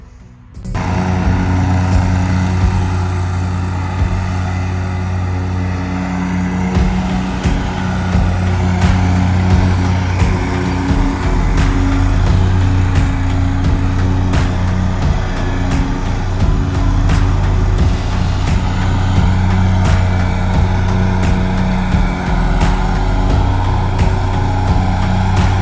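A John Deere Z970R zero-turn mower laying stripes runs at a loud, steady engine drone with a constant hum throughout, close by, with no talking.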